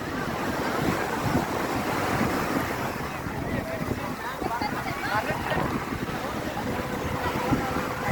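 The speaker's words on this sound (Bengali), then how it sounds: "অনেক গর্জিয়াস ঢেউ এখানে" Ocean waves crash and wash at Marina Beach in Chennai, a steady broad roar mixed with wind buffeting the microphone, loud and continuous throughout without any voices.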